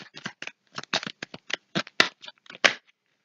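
Tarot cards being handled and drawn, a quick series of close crisp slaps and flicks in irregular bursts, then silence.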